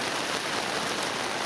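Heavy monsoon rain pours steadily in Pak Pun, Nakhon Si Thammarat, a dense, constant hiss of water hitting surfaces at close range, with no voices.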